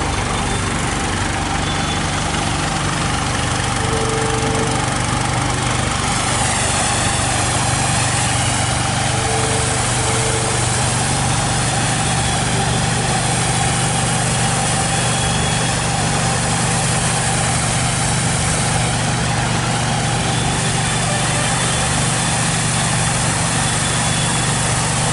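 A big engine arrives at Charminar bus stand with a loud, continuous idling rumble that persists for over twenty seconds, close by and steady, amid busy background noise.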